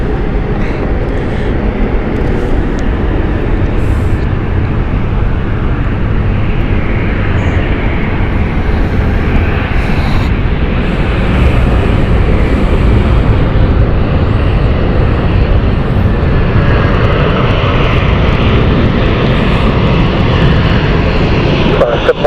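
Embraer E190 jet airliner at London City Airport, a loud, steady broadband engine roar, with people talking throughout.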